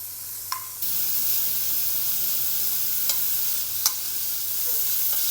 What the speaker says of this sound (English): We're going to gently bring up the heat and fry them till they're nice and crispy.